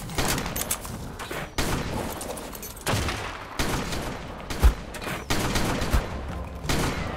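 Gunfire erupts at an Alpha Carnotaurus in the video game Ark: Survival Evolved, coming as repeated bursts of rapid shots separated by brief pauses, with one heavier thump midway.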